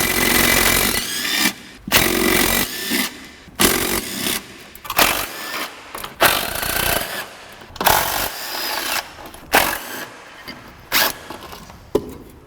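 An impact wrench hammers at 14 mm transmission mount bolts on a 1991-1996 Acura Legend, firing in about eight short loud bursts of rattling blows separated by pauses.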